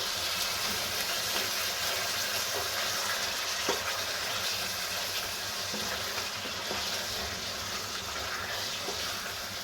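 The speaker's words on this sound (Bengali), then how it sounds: "এবার আমি নাড়িয়ে নিচ্ছি" Egg and potato curry is stirred in a pan, a soft, steady bubbling and frying hiss running throughout with a few faint spoon scrapes, moderately quiet and close.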